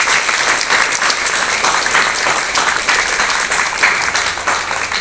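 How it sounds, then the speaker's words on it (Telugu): Loud, sustained applause from an audience at a Visakha Pournima Lalitamma parayanam gathering honouring IAS officers. Dense, even clapping fills the whole stretch without pause. "ఒకసారి గట్టిగా చప్పట్లు కొట్టారు"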